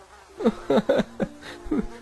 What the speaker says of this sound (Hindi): माँ, यहाँ पर तो कितने मोटे मोटे मच्छर हैं।